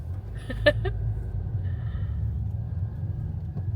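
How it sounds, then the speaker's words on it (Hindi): Heavy street traffic on Holloway Road in London makes a low, continuous rumble, with a brief sharper noise near the start and a faint passing tone, and no clear talk. "बहुत ट्रैफिक है।"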